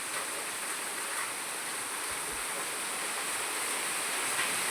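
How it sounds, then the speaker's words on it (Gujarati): A steady downpour drums over a village, a broad, constant rush of falling rain with a couple of faint low thumps, and no one speaking. "आज तो 10 बज गए तो भी चालू है वरसाद, अभी भी नहीं रुका है वरसाद"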